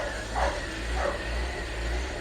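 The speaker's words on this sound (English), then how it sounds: "hear that idle? It does that on a cold startup." A BMW Z4 engine idles rough on a cold startup, close and steady, with a slow rhythmic pulsing and swelling surges in the idle and no talking.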